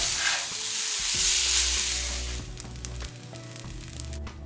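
Black soy sauce sizzles in a cast iron skillet of ginger beef fried rice, a loud steady frying hiss that swells and then eases off, with faint stirring scrapes and no talking.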